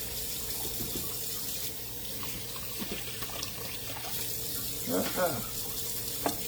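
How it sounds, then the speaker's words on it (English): Kitchen tap water running steadily into a pan, a continuous splashing hiss close by, with some clattering and brief handling noises midway. "add some water to this pan right here."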